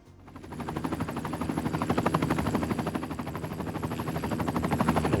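A helicopter flies in Cities: Skylines 2, its fast rotor thump rising out of quiet and holding loud and near, throbbing evenly with slight swells in strength.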